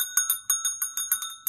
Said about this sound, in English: If you're going to hold it like that, they're going to ring gently.